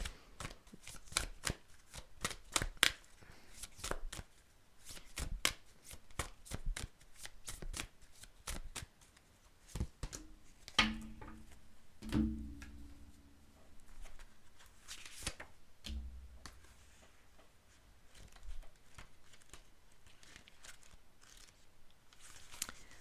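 Oracle cards shuffled by hand in a quiet room, a long run of crisp riffling and flicking bursts with a few soft thumps as the deck is handled, no talking.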